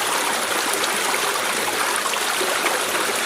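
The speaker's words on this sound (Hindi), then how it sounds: "पानी में छोटी छोटी लहरें और हलचल थी" Water rippling and lapping as a story sound effect for a man half-submerged in the sea: a steady, dense rushing wash with no breaks, close and fairly loud, no voices.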